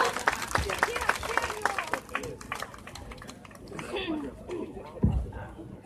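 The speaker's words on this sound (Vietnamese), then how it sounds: "Xin quý vị cho một tràng pháo tay nữa cho Daniel." An audience at a commemoration event claps in a dense burst for about two seconds, then scattered claps trail off under crowd chatter.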